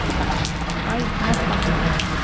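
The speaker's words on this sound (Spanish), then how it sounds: "Que llueva todo lo que tiene que llover" Heavy rain pours steadily in Amapá, Brazil, during a bicycle journey, a dense continuous hiss that stays close and loud from start to end.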